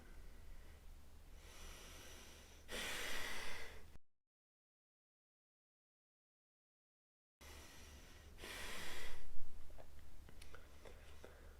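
Heavy breathwork breathing comes in two long, forceful inhale and exhale bursts, loud and close, separated by a stretch of complete silence.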